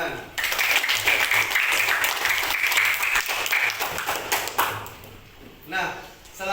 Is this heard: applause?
yes